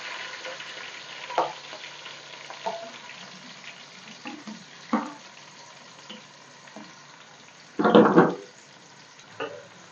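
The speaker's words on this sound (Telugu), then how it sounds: "ఉల్లిపాయలు తొందరగా మగ్గాలంటే పసుపు కొద్దిగా అలాగే కొద్దిగా సాల్ట్ కూడా వేసుకుంటే మంచిగా తొందరగా ఫ్రై అయిపోతాయండి" Thinly sliced onions frying in a pan give a soft continuous sizzle, broken by several stirring scrapes and one louder clattering burst near the end.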